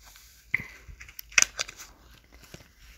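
A gift package is opened with a few close, sharp crinkles and tearing snips, sparse and quiet with small handling noises in between.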